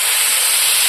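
Fried prawns drop into a pan of spiced potatoes and cauliflower, setting off a loud, close burst of hissing sizzle that fills the whole brief moment.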